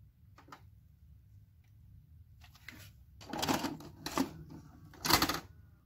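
A VHS tape is handled and pushed into a VCR: scattered soft plastic clicks, then a few louder mechanical clunks and whirring bursts as the machine takes the cassette, with nobody speaking.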